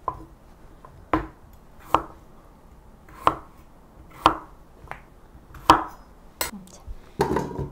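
A knife chops Korean radish into large chunks for soup on a cutting board, making crisp, close, evenly spaced thuds about once a second with quiet kitchen noise between them.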